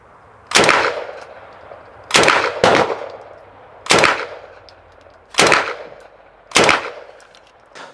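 A Sterling open-bolt submachine gun's bolt slamming forward each time the trigger is pulled, five or six sharp, loud metallic clacks spaced about a second apart, each ringing briefly, close and with no talking.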